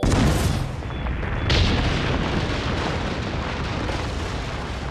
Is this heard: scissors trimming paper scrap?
no